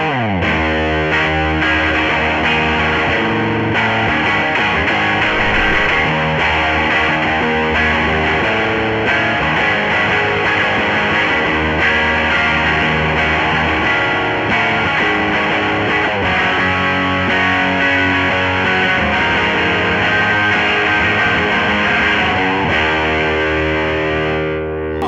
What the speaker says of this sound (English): Here we have the Audile Toad with the Tadpole loaded for some dark fuzz tones.